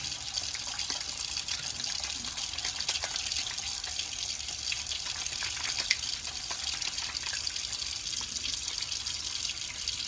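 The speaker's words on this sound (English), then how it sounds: "that's just how to wash your hands" Tap water runs into a sink while hands are washed with lots of soap. The hiss of the water is steady and moderately quiet, with small splashes and drips mixed in, and no voice is heard.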